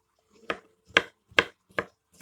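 Knife chopping saffron milk cap mushrooms into small pieces on a board, five distinct, evenly spaced cuts sounding close and crisp with quiet pauses between them.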